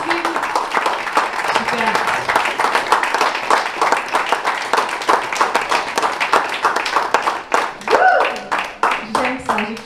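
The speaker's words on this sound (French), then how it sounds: "Applaudissez-vous." An audience at a conference for business leaders and entrepreneurs applauds with loud, dense clapping that fades into scattered claps, while a voice speaks briefly near the end.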